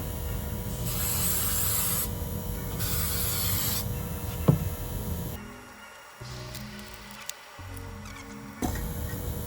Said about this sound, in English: just to quickly glue this with 3M Super 77 spray on that plastic dome